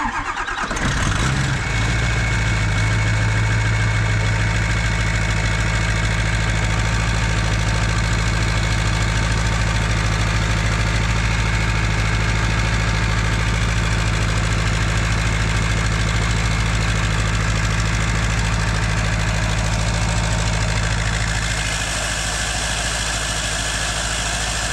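A Ford 6.0 Powerstroke diesel fitted with a triple VGT turbo setup idles close by, a loud, steady rumble with a deep knocking throb that holds evenly for over twenty seconds, with no talking.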